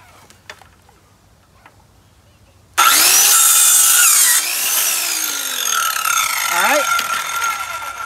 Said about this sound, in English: let's take this saw and go ahead and give it a trim